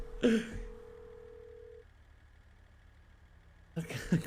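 A telephone ringback tone on an unanswered call sounds as a steady electronic beep that stops, then a faint hum continues, with voices talking briefly before and after.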